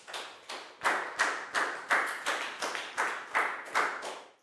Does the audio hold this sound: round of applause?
yes